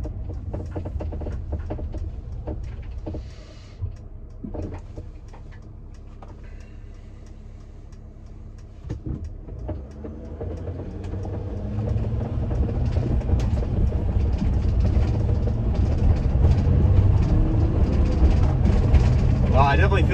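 A Renntech ECU-tuned Sprinter van climbs a hill, its low engine drone building louder in the second half while someone talks over it inside the cabin.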